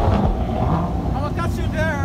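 A supercar's engine starts up and runs at a dense, loud idle with low rumble, mixed with outdoor wind buffeting and people talking nearby in Ghana.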